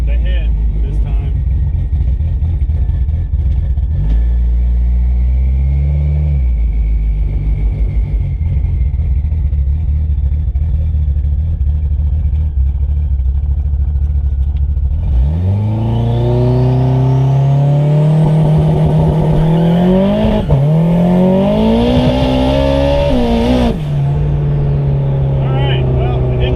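Race car idling with a deep rumble, then a loud launch on Hoosier radial tires on concrete, the engine revving hard and rising through gears before easing off, close and dominant.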